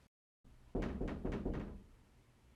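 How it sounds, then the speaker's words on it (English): Several knocks on a door, captured with a Fifine K678 microphone, come as a cluster of about four dull, hollow thuds after a brief silence, fairly close and alone in a quiet room. "maybe let's say you have someone knocking on your door"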